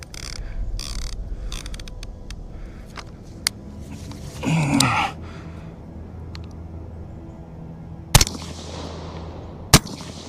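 Two sharp, loud gas gun shots fired at a target stand out near the end, preceded by a shorter crack and a burst of mechanical rattling, with faint ticking in between.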